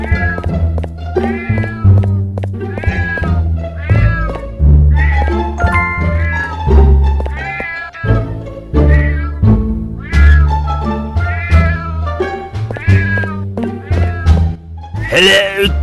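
A cat meows again and again in the game Scary Neighbor 3D, loud and close, in long rising and falling cries with short gaps between them.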